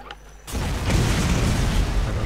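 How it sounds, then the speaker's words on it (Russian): A loud explosion in the Borderlands video game bursts in after a brief quieter moment, then a heavy, sustained rumble of blast and debris fills the rest of the clip. "Взрыв даже здесь было слышно"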